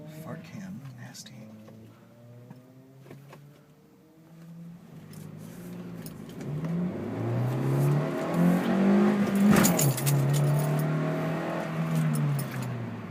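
A 2012 Honda Fit Sport with a manual gearbox is driven hard, its engine note climbing in pitch through one rev run, then easing and surging again into a louder, longer pull from inside the cabin.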